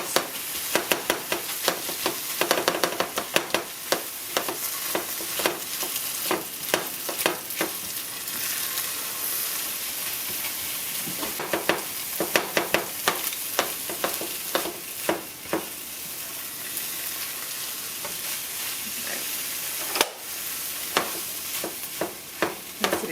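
Scrambled eggs frying in a pan under a constant bright sizzle, with frequent scraping and tapping strokes of a utensil stirring them, close and steady over a long stretch.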